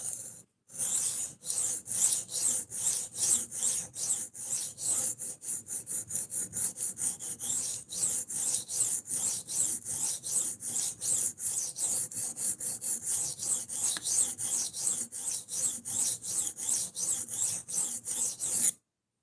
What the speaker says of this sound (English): the diamond is the abrasive that's used to remove steel from the knife